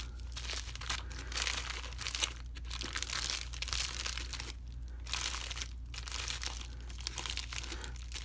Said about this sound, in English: Bubble wrap in a plastic bag.